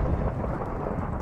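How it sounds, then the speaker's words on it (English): Heavy rain in a game storm roars as a dense, steady wash, with a low thunder rumble underneath throughout the short stretch. "A lot of rain."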